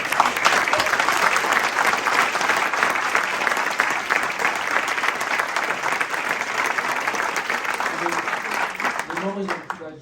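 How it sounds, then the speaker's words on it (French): Audience applause at the Agile Tour Lausanne 2022 conference: dense, sustained clapping from a large crowd that holds steady for nearly ten seconds, then tapers off at the end. "J'aimerais vous inviter à les applaudir."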